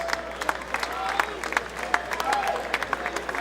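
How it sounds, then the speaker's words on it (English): Crowd applause at a boxing match, with scattered claps and cheers from an arena audience, steady and moderately loud, with faint voices mixed into the noise. "how about a big round of applause for these two valiant warriors?"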